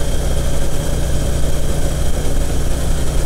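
A Harley-Davidson Electra Glide motorcycle engine runs during a ride, giving a loud, steady, close low rumble with no pauses and no talking.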